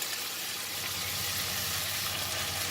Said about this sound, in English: You're going to stir fry and let the ingredients cook first.